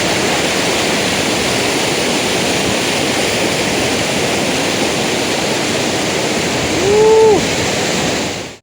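The Tumpak Sewu waterfall in Lumajang, Indonesia roars steadily and loudly, a dense wash of falling water with no letup; a brief faint tone rises near the end.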